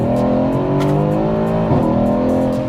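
A fast car with a straight-through exhaust drones loudly from close by, holding a steady engine note with a slight pitch shift partway through.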